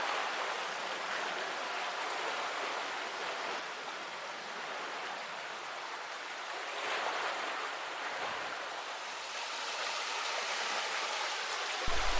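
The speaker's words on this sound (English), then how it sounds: "I have only opened one of the gate paddles to allow water to pass" Water rushes steadily through an opened ground paddle on a canal lock gate, a broad, continuous hiss and roar that stays fairly constant and quiet with no voices.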